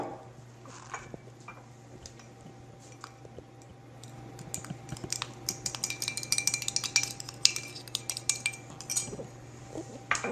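Cauliflower florets being tossed with avocado oil and gluten-free flour in a bowl, quiet at first, then a run of close, irregular clinks and taps from a utensil against the dish, with no talk.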